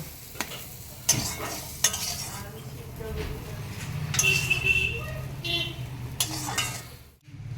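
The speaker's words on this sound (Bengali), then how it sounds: "আমাদের যে উচ্ছা দিয়ে দিয়েছি সাধারণ লবণ ভাজা হয়ে গেছে নামিয়ে নিব" Bitter gourd fries with salt in oil in a kadai, with a soft sizzle under repeated metal stirring scrapes and clinks of the spatula against the pan.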